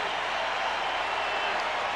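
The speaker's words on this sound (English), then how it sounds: "a little noise from the crowd" Steady crowd noise at a 1998 Yankees at Cleveland baseball game, a broad, even murmur filling the stadium with no clear cheers or claps standing out.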